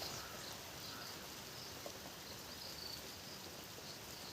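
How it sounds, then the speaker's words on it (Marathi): Steady rain pours down as a dense, continuous hiss with no voices, broad and unbroken throughout. "एवढा जोराचा पाऊस चालला आहे"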